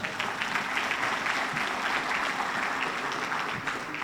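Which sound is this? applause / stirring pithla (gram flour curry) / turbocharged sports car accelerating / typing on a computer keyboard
applause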